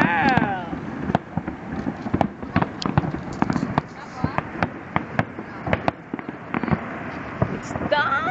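New Year fireworks over Burj Al Arab, a steady barrage of sharp bangs and crackling bursts at irregular intervals, somewhat distant, with wind noise on the microphone and people talking excitedly throughout.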